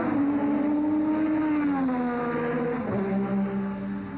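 A turbocharged 1980s Formula One car engine drones steadily at high revs, its pitch sliding down and then shifting near the end, heard alone without voices.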